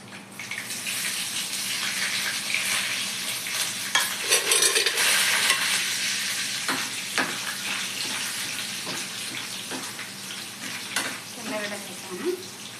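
Garlic cloves hit hot oil in a pan already holding fenugreek seeds, sizzling loudly, then crackling and scraping under steady stirring for several seconds, with no talking.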